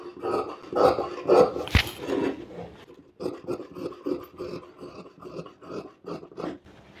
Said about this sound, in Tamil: இப்போ இங்கேருந்து கட் பண்ணிக்கலாம்.